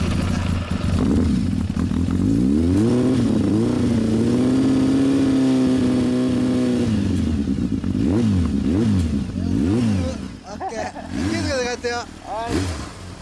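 A 1984 Suzuki GSX750E4 motorcycle engine idles loudly up close, then is revved in several rising and falling bursts, each throttle blip swelling and dropping back before the engine settles near the end.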